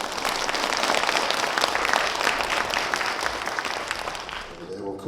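Big round of audience applause opening an academy lecture on sustainable mining, broad and steady before fading toward the end.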